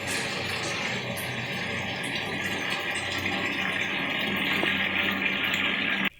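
Tap water gushes into a cheap washing machine placed under the faucet, a steady, loud hissing flow that runs continuously before cutting off abruptly at the end.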